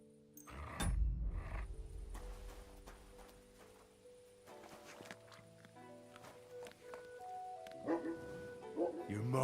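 A dog barks a few times in the medieval world of Kingdom Come: Deliverance II, the barks mixed with hoof clops, footsteps and ambient game music, and a voice speaking nearby.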